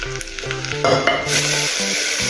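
Ginger garlic paste sizzles and fries steadily in a hot pan with softened onions, with occasional stirring scrapes, close and fairly loud, no voices.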